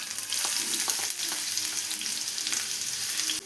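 Chopped shallots fry in coconut oil in a pan, a steady close sizzle with faint crackles and occasional stirring scrapes, no voices over it.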